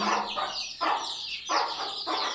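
Young chicks being fed chopped boiled egg with nettle and groats, clucking and chirping in repeated bursts about every half second, fairly close and clear with no talking.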